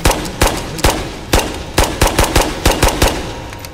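A charged gun fires in the VR shooter Ghosts of Tabor, about a dozen loud, close single shots in an uneven rhythm, some spaced apart and others quickly in succession.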